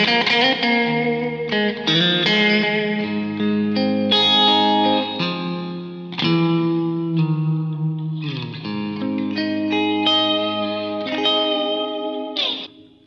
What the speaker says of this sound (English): Let's hear one more piece on that lovely middle pickup tone.